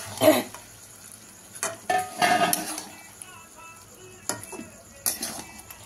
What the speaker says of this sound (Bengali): মাছটা দিয়ে এবার আমি ঢাকা দিয়ে দিচ্ছি।